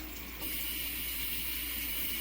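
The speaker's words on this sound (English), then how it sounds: "dump out most of the water, go ahead and fill with cold water" Cold tap water pouring from a faucet into a pot of cooked potatoes, a steady hissing gush that grows a little fuller after a brief opening.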